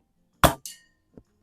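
Air rifle pellets striking steel gong targets on an outdoor plinking range, fired from a 1981 Diana model 24 youth rifle: one sharp metallic crack, a second quick ring, then a faint soft thud, with no talking.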